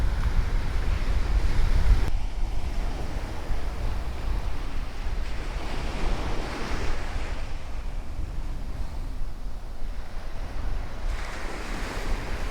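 Steady wind and rolling surf on the beach at Burgas, with heavy wind buffeting the microphone throughout and a continuous wash of waves, no voices.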